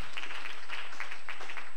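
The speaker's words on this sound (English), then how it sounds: "We applaud her and her efforts" A church congregation applauding, a dense, steady wash of many hands clapping nearby, loud and continuous with a few voices mixed in.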